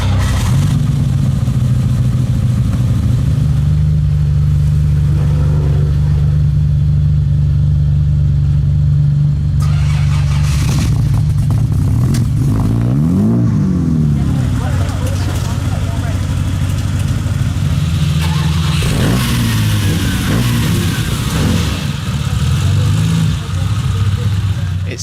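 A lime green classic GT4 car drives along a road, its engine a loud, close, continuous drone with changes in pitch as it revs.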